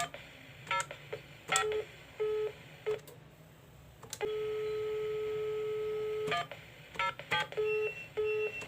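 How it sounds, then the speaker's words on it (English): A telephone keypad on a PABX exchange sounds a series of DTMF tones dialing an extension, clicks and short beeps mixed with one long steady tone, loud and near with no talking. "Now dial any extension number."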